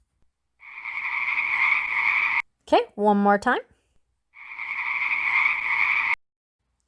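Two long, loud, buzzing frog croaks, close and clear, with a short spoken phrase in between them.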